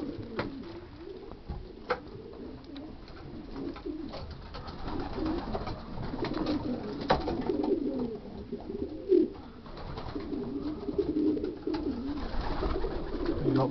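Racing pigeons coo steadily in a loft, a soft continuous murmur of many birds with occasional wing flutters and a few louder calls, fairly close and without talk.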